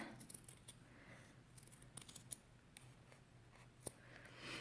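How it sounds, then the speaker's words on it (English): Scissors snip through paper or felt to cut out a craft animal ear, making quiet, close, irregular clips and rustles. "you can cut it out and just make sure that your edges are even and just cut it out."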